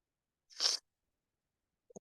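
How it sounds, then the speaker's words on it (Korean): One quiet sneeze, a short breathy burst, followed after a pause of over a second by a tiny faint click-like sound, in an otherwise silent room. "제가 방금 마이크를 끄고 재채기를 했는데 재채기 소리가 들어갔는지 모르겠네요."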